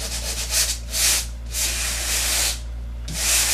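Coarse 80 or 100 grit sandpaper rubs over a drywall patch in long back-and-forth strokes, a loud close hissing scrape with a steady low hum underneath.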